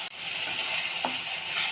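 Lemons, green chillies and ginger sautéing in a pan for lemon pickle make a steady, close sizzle with a brief stirring scrape partway through and no talking.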